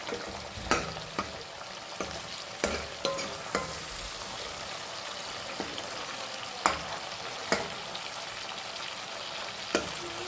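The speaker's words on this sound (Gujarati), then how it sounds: "ટામેટાને થોડીક વાર પાકવા દઈશું." Tomatoes sizzle in a pan for vaghareli khichdi while a spoon stirs them, giving a steady fry hiss broken by regular scraping clinks against the pan.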